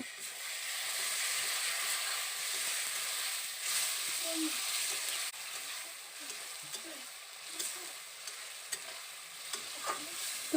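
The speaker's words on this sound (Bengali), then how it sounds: "এবার আমি দিয়ে দিচ্ছি গ্রেট করে রাখা টমেটো আর পরিমাণ মতো নুন নুনটা দিয়ে আবারও ভালো করে আমি এই মশলাগুলোকে কষিয়ে নেব" Spice paste with grated tomato and salt being stirred and fried in a pan for fish curry, a steady broadband sizzle throughout with occasional scraping and clinks of the spoon.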